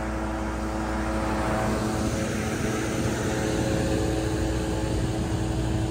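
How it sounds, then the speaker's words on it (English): A loud, steady backup generator engine drone with a throbbing low rumble runs continuously, close by and unchanging, at a high school during a power outage. "You can hear the generator running."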